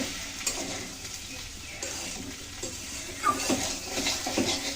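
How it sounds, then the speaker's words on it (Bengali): Cauliflower, potato and egg fry stirred in a pan with the lid off, giving soft scraping and shuffling strokes over a light sizzle, with a few sharper spoon scrapes later on, close and moderately quiet. "ঢাকনা তুলে নিয়েছি, আবার সুন্দর করে মিশিয়ে দিচ্ছি।"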